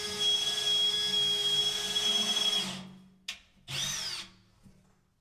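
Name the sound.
drilling metal tube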